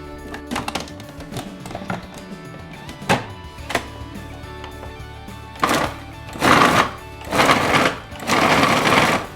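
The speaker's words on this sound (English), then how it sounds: "we're going to put it into our food processor and just pulse it" A food processor pulses diced stale bread into breadcrumbs with a run of short motor bursts after a few scattered knocks, the later pulses growing longer and louder.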